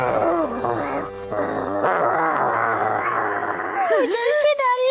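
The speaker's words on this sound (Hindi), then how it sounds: "गुर्राना बंद करो" A cartoon dog growls and groans in a drawn-out, wavering rumble, close and fairly loud, mixed with excited character voices talking over it.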